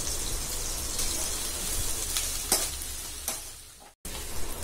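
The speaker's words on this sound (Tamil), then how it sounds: "நமக்கு தேவையான அளவுக்கு வரணும், அதாவது பொன்னிறமாக வர வரைக்கும் அதை நல்லா வதக்கிக்கிட்டே இருக்கணும்." Onions sauté in a pan for a prawn gravy and give off a steady, close sizzle with soft stirring scrapes. A few sharper clicks come near the end, and the sizzle stops briefly before resuming.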